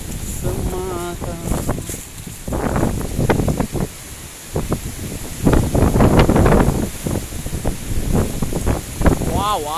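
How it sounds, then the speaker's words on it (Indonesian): Strong coastal wind buffets the microphone outdoors at a young Tugu Kuning clone coffee plantation in Pesisir Barat, Lampung, a steady roar with gusts beneath someone talking intermittently throughout. "Wow, anginnya luar biasa."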